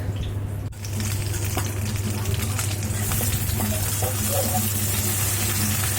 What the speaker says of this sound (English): And fry the bangan completely.